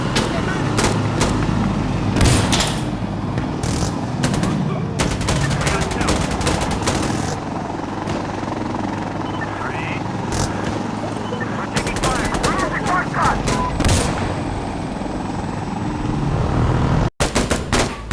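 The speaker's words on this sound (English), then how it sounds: "We see enemies. We're firing now." Rapid automatic gunfire and scattered single shots in Insurgency Sandstorm co-op combat, loud and sustained over a rumbling battlefield background, with voices calling out over the shooting.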